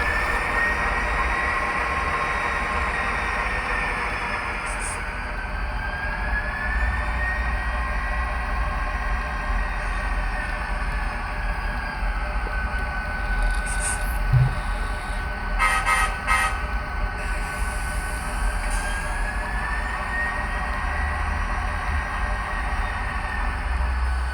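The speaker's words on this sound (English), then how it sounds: "Nothing like new locomotives on the layout, huh?" New model railroad locomotives run on a home layout with a steady motor hum and a droning, wavering horn tone, with a few brief clicks and taps partway through, continuous and close.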